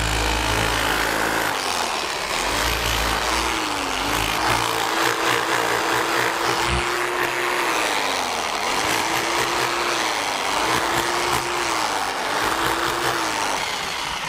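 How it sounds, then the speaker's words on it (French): A rotary hammer drill in chisel mode chips mortar out of a stone wall, a loud steady motor drone with continuous hammering and gritty scraping throughout, no voices. "c'est un marteau perforateur avec position burinage"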